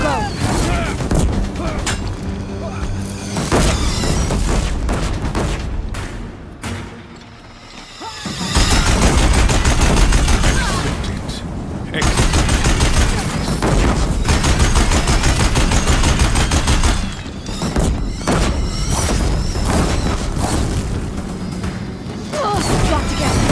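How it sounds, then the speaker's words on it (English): Heavy, sustained machine-gun fire from Deathbringer machines in Horizon Zero Dawn, a dense loud barrage with booms and mechanical clatter, briefly dropping away before the volley resumes near a bridge. "If the Deathbringers keep firing, this bridge will go."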